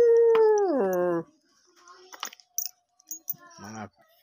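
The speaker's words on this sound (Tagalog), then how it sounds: "Asong kumakahol." A dog gives one long, drawn-out howl-like bark that slides downward, followed by faint scattered clicks and jingles, then a shorter second bark; close and fairly loud, with no talking over it.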